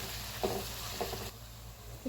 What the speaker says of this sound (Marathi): कांदा परतताना सगळे मसाले परतले जातात.